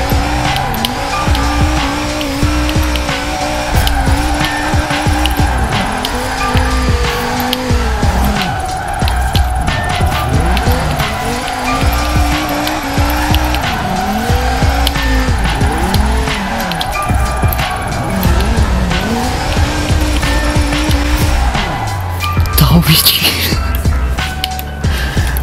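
A race car in Forza Horizon 4 drives hard, its engine revving up and down in repeated sweeps while the tires squeal and skid almost nonstop, loud and close throughout.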